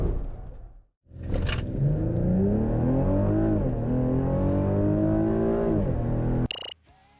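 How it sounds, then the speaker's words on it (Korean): A 2022 BMW X5 M50i accelerating hard from a stop, engine rising steadily in pitch through a long loud pull with a brief gearshift dip, heard close after a short pause, with no one talking. "BMW X5 M50i는 시속 100km까지 가속하는데 68m 미만의 거리를 요구했습니다."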